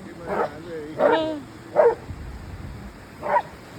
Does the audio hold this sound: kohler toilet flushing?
no